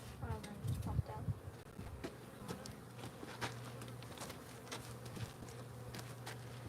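Honeybees buzzing around a hive, a steady faint hum of many insects with scattered soft knocks and rustles close by.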